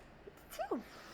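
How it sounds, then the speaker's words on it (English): A single quiet, brief sneeze, faint against a low background hiss. "excuse me, I had to sneeze."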